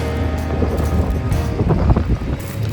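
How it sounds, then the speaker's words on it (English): Strong wind buffets the microphone outdoors beside a parked car, a steady, loud low rumble with gusty swells and no talking. "The wind is so strong, it's about to blow my whole sandwich off the car."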